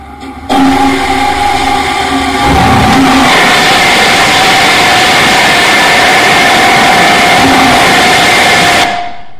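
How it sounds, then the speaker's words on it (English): A model rocket engine launches with a loud, continuous roar that starts abruptly, swells into a steady broadband blast for several seconds, then cuts off sharply near the end. "Now, let's blast this rocket off."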